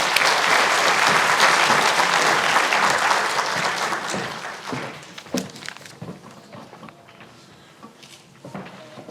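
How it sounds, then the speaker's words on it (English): Audience applause at a continuing education achievement ceremony, loud and dense at first, then thinning into scattered claps and thumps before fading. "Give her a round of applause."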